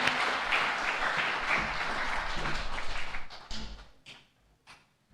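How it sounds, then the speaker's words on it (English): Applause from the audience at a National Honor Society induction ceremony, steady and full for about three seconds, then thinning into scattered claps before fading out. "So give yourselves a round of applause."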